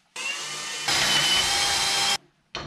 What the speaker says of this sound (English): And then I'm drilling a pilot hole.